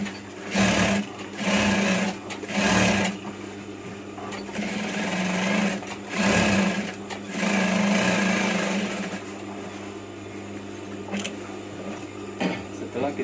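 A sewing machine topstitches the shoulder and back seams of a batik combination shirt, firing in several short, loud bursts of rapid whirring separated by quieter gaps, with a voice talking between the runs.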